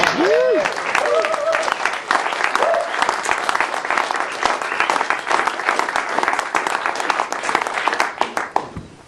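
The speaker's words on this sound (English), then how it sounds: "Round of applause" A crowd breaks into sustained, enthusiastic applause, dense clapping filling the space for several seconds, with a few brief voices and whistles early on.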